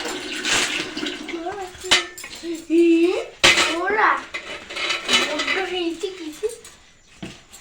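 Metal utensils clatter and clank together in bursts of sharp knocks and scrapes, with people talking intermittently over the clatter.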